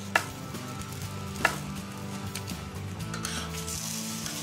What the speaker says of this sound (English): So while that's browning, just cut up an onion here.